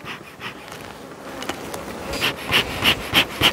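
Honeybees hum inside an opened hive during a spring inspection, a steady close buzzing that swells with a few louder passes of individual bees near the end, with no talk.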